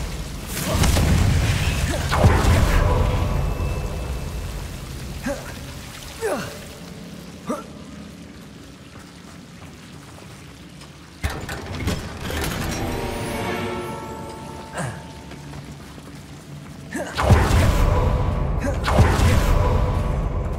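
A Confringo fire spell goes off in Hogwarts Legacy, giving deep booming blasts with rumbling tails, loudest at the start and again near the end, over continuous game sound effects.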